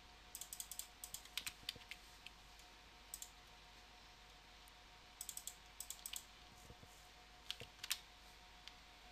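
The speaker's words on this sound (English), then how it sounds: "You simply type it in." Fingers typing on a computer keyboard, quick clusters of crisp, close key clicks separated by short pauses over a steady hum, with no voices.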